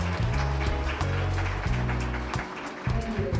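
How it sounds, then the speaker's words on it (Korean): An audience at a Korea–US advanced industry technology cooperation forum claps in welcome as a guest is introduced, a dense, steady burst of applause that briefly dips and then swells again. "참석자분들은 큰 박수 환영해 주시기 바랍니다"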